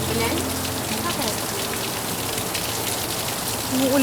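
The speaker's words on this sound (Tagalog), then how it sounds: "Umuulan kasi." Steady rain pours down on surfaces as a dense, continuous hiss, close and fairly loud, while faint voices murmur beneath it.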